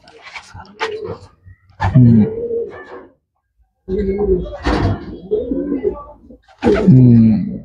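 A three-year-old racing pigeon at a loft coos in repeated deep, throaty bursts, close and fairly loud, with short gaps between calls.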